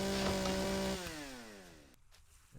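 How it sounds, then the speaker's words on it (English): Chainsaw in the video game Empyrion Galactic Survival cutting down trees, a steady buzzing drone that drops in pitch and trails off after about two seconds, faint and alone. "pick up the chainsaw."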